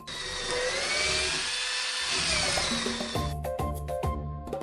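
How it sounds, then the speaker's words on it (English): A screwdriver, most likely a powered one, whines in a steady high-pitched drone and then breaks into a stuttering series of short bursts at the end. "If you said it's a screwdriver"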